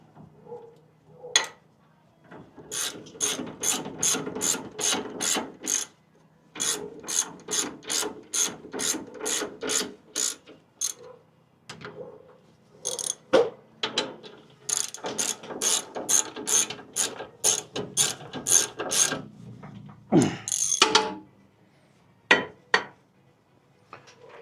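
Rapid bursts of ratchet clicking come in repeated runs with short pauses between them as bolts are snugged up during a brake job on a 2013 Ford F150, close and crisp, with an occasional metallic clunk.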